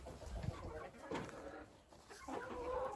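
Chickens cluck softly as they peck at scrambled eggs in a snowy yard near turkeys, with faint clucks and low background noise and murmured voices.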